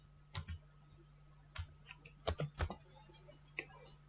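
Keys tapped on a computer keyboard in a quiet room, a few scattered, isolated clicks followed by a quick short burst of keystrokes, close and fairly soft.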